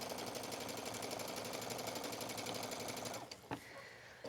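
A sewing machine stitching a seam on a towel hoodie, running fast and steady with a rapid mechanical chatter before stopping abruptly, followed by a faint click and near silence.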